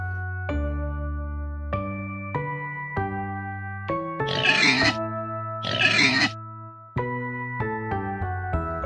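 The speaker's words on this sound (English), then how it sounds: "Pig." A pig gives two rough, noisy grunting bursts in the middle, set against simple tonal music notes that continue throughout.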